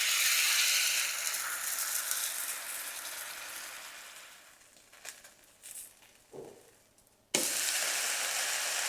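Fasting dhirde batter spooned onto a hot tawa sizzles, a hissing fry fading down, then a few soft scrapes before a fresh burst of loud sizzle as more batter goes on.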